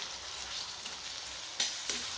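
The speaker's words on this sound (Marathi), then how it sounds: "कांद्याचा कलर हा चेंज झालेला आहे, तर आपण टोमॅटो टाकून घेऊयात" Chopped tomatoes sauté with browned onions for pav bhaji, a quiet, even frying hiss broken by two brief sharp clinks of a utensil near the end.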